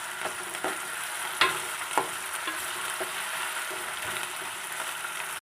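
Onions and green chillies fry in hot oil in a steady, hissing sizzle, broken by a few soft clicks and scrapes of stirring, heard close with no one talking.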